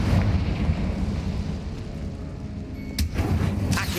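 Confringo fire spell cast in Hogwarts Legacy, a blasting burst near the end standing out against a loud, rumbling game soundscape, with one sharp crack followed by a second flare.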